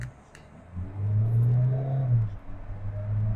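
A Mahindra Thar in drag mode accelerates with a low droning engine rumble that swells and holds, then dips and rises again as revs climb toward 4000 rpm, heard from inside the cabin.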